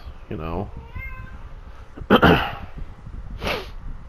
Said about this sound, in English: that's my cat, if you heard that